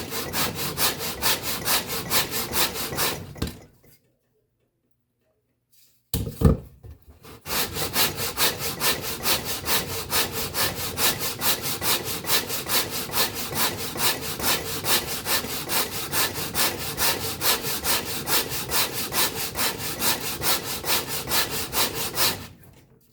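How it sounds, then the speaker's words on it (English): Wood violin linings being sanded level by rubbing on a flat board with glued sandpaper, a steady fast rhythmic rasping of close strokes that stops briefly for a couple of seconds, then resumes and continues to the end. "I just all this is a real flat board with sandpaper glued to it."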